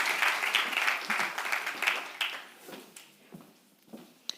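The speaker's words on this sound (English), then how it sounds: "Give them a round of applause as they make their way." An audience at an entrepreneurs' talk on fashion retail claps in a burst of applause that is fairly faint and gradually thins out into scattered claps.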